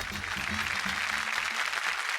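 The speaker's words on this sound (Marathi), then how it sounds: "एकदा जोरदार टाळ्या होऊन जाऊ देत." A dense wash of clapping from a television show audience, steady and moderately loud, with faint voices underneath.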